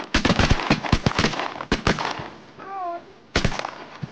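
Rapid volley of shotgun blasts from several hunters firing at a big low flight of ducks during a duck hunt, sharp loud shots in quick succession with a brief pause, one voice shouting between them.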